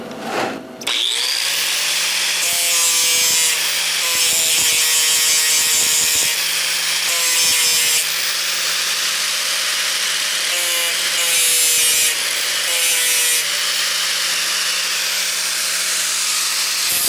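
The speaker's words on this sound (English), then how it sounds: "I'm gonna grind this tack down." An angle grinder steadily grinds down a weld tack on metal, loud and close, with a sustained high whine broken by short pauses and pitch shifts as the disc bears on the steel.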